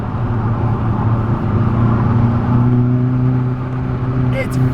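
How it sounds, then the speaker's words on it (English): A Hyundai i30N Performance hot hatch accelerates with a loud, steady engine drone that climbs in pitch, and a faint crackle near the end. "it crackles, it sounds insane"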